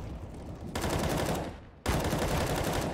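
Rapid automatic gunfire in CS:GO, a dense, continuous rattle of shots with a brief break midway before the burst resumes loudly.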